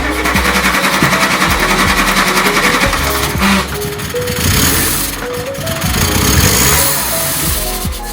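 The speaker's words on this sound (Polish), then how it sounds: "To jest podejście numer 4 do odpalania tego samochodu." A car engine cranks and runs roughly after repeated starting attempts, loud and close with uneven rattling bursts and surges as it is revved.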